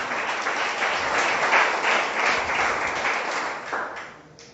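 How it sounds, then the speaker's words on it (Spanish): A church congregation applauds during a Spanish-language service, a steady, loud wash of many hands clapping together that fades out toward the end. "Regálele un aplauso al Señor en esta noche."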